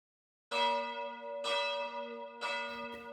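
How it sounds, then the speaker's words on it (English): Church bells ring out in three slow, resonant strikes, each tone lingering and overlapping the next, clear and alone in the quiet. "Around dawn, the church bells above me begin to ring."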